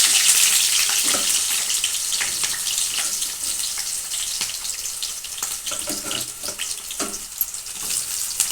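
Mustard seeds, cumin, green chilies and onions fry in hot oil with a loud, steady sizzle and scattered sharp pops and crackles throughout, with no talking.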